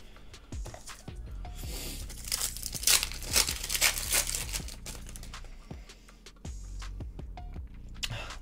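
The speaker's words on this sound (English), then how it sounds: "This is the first box I'm going to open for myself." A Pokémon card booster box is torn open by hand, with crinkling, tearing and crumpling of packaging in repeated bursts, loud and close, with no talking.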